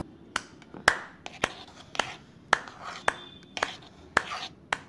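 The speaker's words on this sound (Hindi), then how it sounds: "बस भाई ताली बजाना बंद करो।" Sharp hand claps ring out in an irregular series, about a dozen crisp close strikes with short gaps between them, heard alone in a quiet room.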